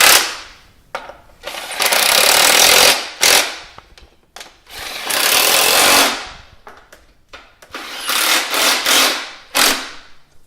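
A socket tool tightens the ignition coil bolts on a Dodge Neon in a series of loud, harsh mechanical bursts, some long and some short, separated by brief pauses, with no one talking.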